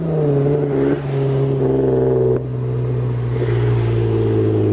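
A car engine revs and holds steady, a loud, close droning tone that dips briefly twice between throttle blips, with no voices over it.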